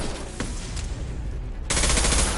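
Scoped rifle fire in a first-person shooter game, a couple of sharp cracks followed by a loud, sustained burst of gunfire close up.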